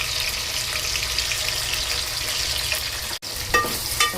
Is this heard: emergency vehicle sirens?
no